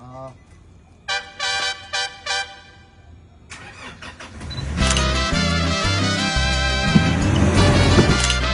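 Car engine cranking and catching, followed by a steady running rumble that builds louder, with short bursts of voices and clatter beforehand.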